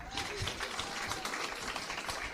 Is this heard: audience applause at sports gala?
yes